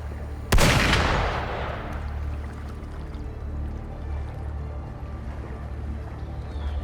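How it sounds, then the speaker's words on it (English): A single sharp gunshot blast in the video game Wuthering Waves, followed by a long booming decay and rumbling echo over a steady low background hum, with no further shots. "Gunfire! We've got intruders."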